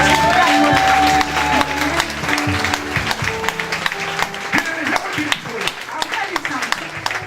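Church congregation acclaiming the Lord, a loud, sustained wash of clapping and cheering with scattered voices, continuing steadily throughout and thinning slightly toward the end.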